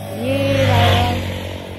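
Scooter riding along a road from Pokhara toward Galkot, Baglung, a loud close engine drone that swells in pitch and volume mid-clip then eases off, with wind rumble underneath.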